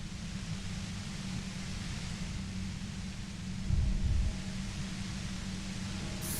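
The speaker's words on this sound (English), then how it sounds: "you hear through the white noise. It's especially bad suddenly." White noise effect from the video game Disco Elysium, a steady low static hiss that holds constant throughout, with a brief deeper rumble swelling near the middle.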